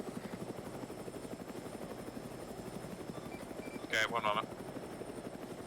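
A video game helicopter's rotor throbs steadily at a moderate distance, with an electronic chirp near the end and a voice talking briefly over it.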